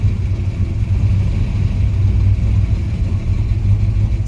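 A warmed-up Holden WB with a 355 V8 engine rumbles steadily up close as the car pulls off, a deep, even low-end drone with mild engine roar, no voices.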